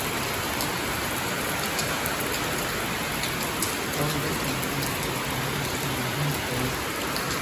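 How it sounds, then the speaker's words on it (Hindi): Heavy, steady rain pouring down, a dense continuous hiss of drops drumming on surfaces without a break. "देख कितनी ज़्यादा बारिश हो रही है"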